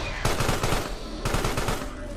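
Gunfire in the horror action game Carrion, a steady rapid rattle of automatic shots in two long bursts with a short gap, moderately loud and continuous.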